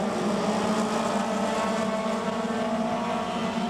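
Mini stock race cars roar in a tight three-wide pack around a speedway oval, a steady loud engine drone with sustained buzzing tones holding throughout, no pauses.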